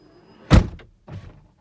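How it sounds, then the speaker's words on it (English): The right passenger door of a Tesla Model X shuts with a single close, solid thump, followed about half a second later by a softer latching thud, then quiet. "the car is closed, except for the right passenger door, and I'll close that one also"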